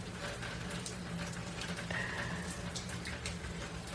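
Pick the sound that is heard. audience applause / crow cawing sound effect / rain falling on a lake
rain falling on a lake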